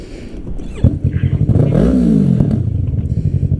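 A motorcycle engine with an aftermarket exhaust revs up close, its loud throaty exhaust rising and falling over a rapid, rumbling idle.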